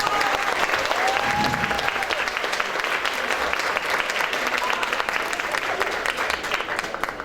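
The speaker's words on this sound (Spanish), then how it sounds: "Un aplauso, por favor." An audience applauds continuously at a book presentation, a loud, even wash of many hands clapping that holds steady for several seconds, with faint voices and a few whistles mixed in.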